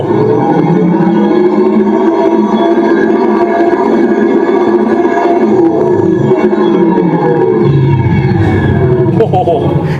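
A loud, dense electronic whirring and droning, like a robotic machine sound effect, played through a Tesla electric car's speakers under acceleration, with layered tones holding steady and shifting slightly throughout.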